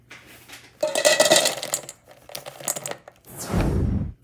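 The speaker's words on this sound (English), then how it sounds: "I'm going to go ahead and add my chocolate to the pan" Chocolate pieces tipped into a pan set up as a double boiler, giving a close, brief rattling clatter of small pieces against metal, followed by a louder scraping rush.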